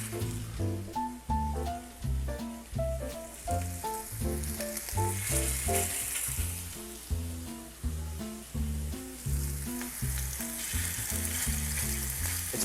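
Pork sausage patties sizzle in canola oil in a hot cast iron pan, a steady hiss of frying largely buried under loud rhythmic music throughout.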